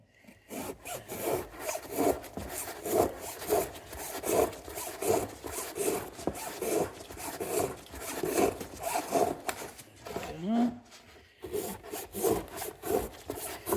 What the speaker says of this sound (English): But I am going to cut the filter off it.